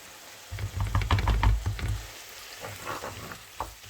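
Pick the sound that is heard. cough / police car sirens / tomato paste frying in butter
tomato paste frying in butter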